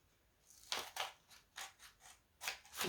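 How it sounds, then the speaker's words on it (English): Scissors snip through folded paper in a series of about six crisp, close cuts with short pauses between them, quiet and alone without talk. "Now take your scissors and you look at this triangle in the middle and you're going to cut it out."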